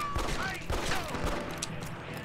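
Rapid gunfire from the 2004 Xbox game Red Dead Revolver, a dense fusillade of overlapping shots with sharp bursts near the start and middle, holding at a steady loud level throughout.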